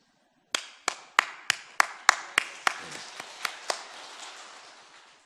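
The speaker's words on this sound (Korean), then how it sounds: "제가 여러분에게 박수를 쳐드릴 테니까 여러분 박수를 받으세요" About a dozen sharp hand claps ring out at a steady, moderate pace in a reverberant church, each echo trailing off, then fading silence.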